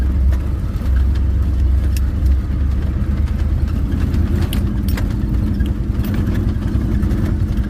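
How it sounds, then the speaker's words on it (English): A car engine idles steadily in traffic during a drive out on a hunting trip, a low continuous rumble close by and alone with no talk, a few faint clicks on top. "And I'm stuck waiting on traffic again."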